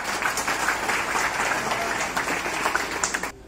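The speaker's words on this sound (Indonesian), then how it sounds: "Tepuk tangan." Steady audience applause at an Indonesian official gathering with the deputy governor present, a dense wash of many hands clapping that holds for several seconds before breaking off abruptly at the end.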